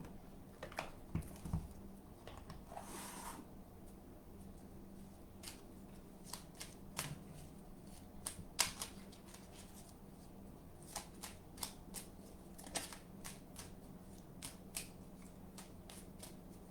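A small angel oracle card deck being shuffled by hand, a soft papery riffle with sharp flicks and taps scattered across a quiet room, close and fairly faint.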